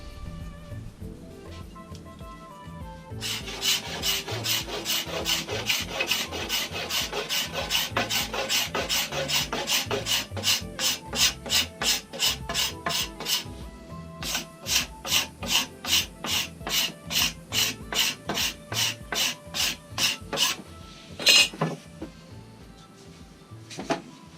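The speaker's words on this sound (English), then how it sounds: "using the back of the rasp there to get rid of some of those tool marks" Rhythmic rasping as a rasp works a wooden longbow limb to remove tool marks, quick regular strokes in bursts, near and crisp, with a short pause midway and a final lone scrape.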